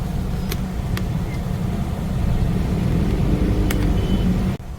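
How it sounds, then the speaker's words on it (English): Road traffic in Hyderabad rumbles as a steady, dense low drone of engines, with a few sharp faint clicks cutting through near the start and end. "Now see the traffic in Hyderabad."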